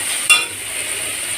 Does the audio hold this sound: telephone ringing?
no